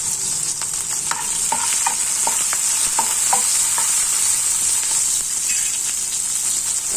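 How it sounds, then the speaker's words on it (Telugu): Onions, small onions and green chillies fry in tempering oil with seeds for a homemade samosa filling. A bright continuous sizzle runs throughout, punctuated by a run of light stirring clicks, and no one speaks. "తాలింపు గింజలు వేగాక ఉల్లిపాయ, చిన్న ఉల్లిపాయ, పచ్చిమిర్చి"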